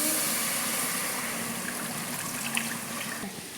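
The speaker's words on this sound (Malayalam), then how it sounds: "അപ്പോൾ പാൻ ചൂടാക്കി നമുക്ക് ഇതിലേക്ക് വെള്ളം ഒഴിച്ചു കൊടുക്കാം" Water poured into a heated pan for biryani rice, a steady close pouring and trickling wash that runs for the whole stretch with no voices.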